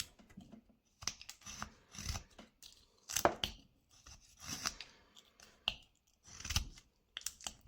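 A knife whittles wood while a small hobbit figure is carved, giving close, irregular scraping and slicing strokes separated by short quiet gaps.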